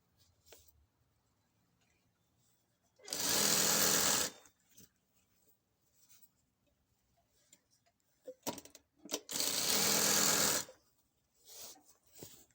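A sewing machine stitches a pair of trousers in two short, loud bursts of rapid running, each lasting about a second, separated by quiet pauses with faint handling noises.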